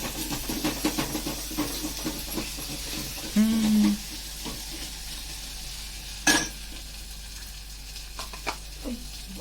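Ginger garlic paste frying in a home kitchen pan, a loud bright sizzle broken by repeated scraping stirs and clinks of a spoon against metal, with a short hum and a sharp clatter.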